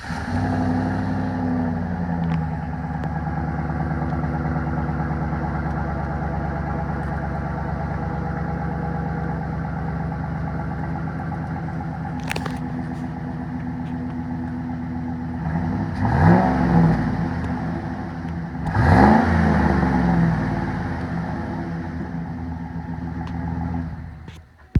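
A 2007-2013 Chevy Silverado V8 on its stock exhaust, idling with a steady low rumble, then revved twice in quick succession, each blip swelling and falling back to idle.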